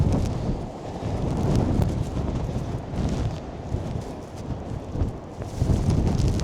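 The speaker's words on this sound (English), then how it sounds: "It's fairly gusty at the moment, and it's going to feel a lot stronger when we get to nearer the shore." Strong wind gusts sweep across the docks near the shore, making a continuous low, rumbling roar that buffets the microphone and swells and eases in gusts, with no talking.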